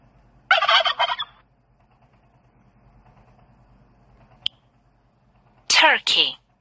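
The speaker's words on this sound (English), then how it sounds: "Turkey." A turkey gobbles twice, a rapid warbling burst near the start and another louder pair of gobbles near the end, with a quiet pause between.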